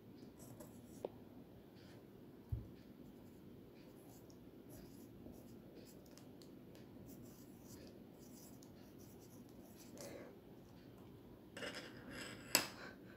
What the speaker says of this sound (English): Now I'm going to be writing with the Dom's crystal sharpener.